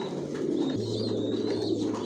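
Racer pigeons, big-bodied long-line birds, coo softly in a loft, giving a steady low murmuring coo that runs unbroken for a couple of seconds with no talking over it.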